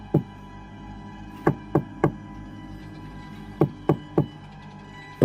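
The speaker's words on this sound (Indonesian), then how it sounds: "Andi kemudian mengetuk pintu rumah tersebut." Knuckles rap on the wooden front door of a house in two sets of three sharp knocks, close and clear, separated by a pause over faint background hum.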